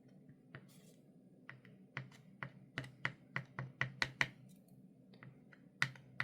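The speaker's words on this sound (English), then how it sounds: "Keyboard" Computer keyboard typing, a run of separate sharp key clicks in an irregular rhythm, close and fairly quiet over a low steady room hum, with no voices.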